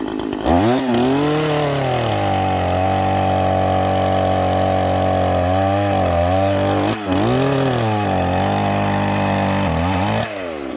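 A chainsaw with a semi-dull chain roars close by at full throttle, holding a steady bogged-down pitch while cutting, then revving up and dipping several times between cuts.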